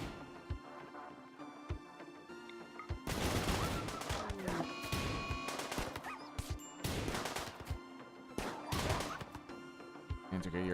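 Rapid volleys of gunshots aimed at a predator in a video game, loud broadband bursts coming in clusters after a quieter opening, with voices intermittently underneath.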